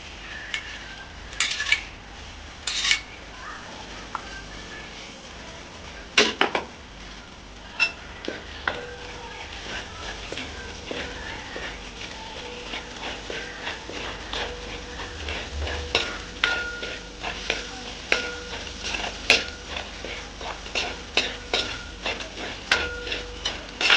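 Garlic paste and other ingredients for a Kerala-style tuna pickle are stirred together in a pan, with repeated spoon clinks and scrapes against metal over a faint sizzle, growing busier toward the end.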